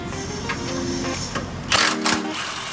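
Bolts come off the power steering reservoir of a third-generation Toyota Tacoma with a brief mechanical whirring buzz, then two short louder bursts near the end, heard close up with no talking.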